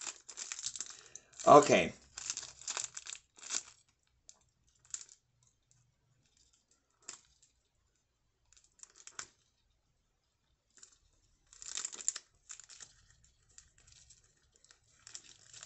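Plastic packaging crinkles and tears in bursts as someone struggles to pull it off a product, with quiet gaps between, and a person says a word briefly.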